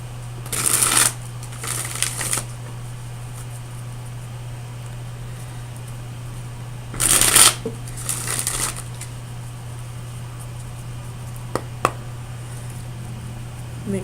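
Tarot cards shuffled in two distinct bursts, each a quick riffling flutter lasting a couple of seconds, separated by a long quiet gap over a low steady hum, with a faint click or two near the end.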